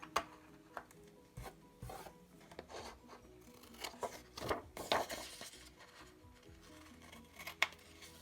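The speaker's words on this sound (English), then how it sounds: "And then just cut off the excess pieces." Scissors trim excess paper pieces from a planner insert, giving faint, quiet snips and rubbing rustles scattered through the clip at close range.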